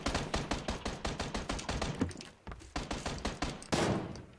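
Gunfire in the shooter game PUBG: rapid automatic bursts of shots in quick rhythmic sequence, a short pause, then more bursts and a final louder blast, heard fairly close without talk.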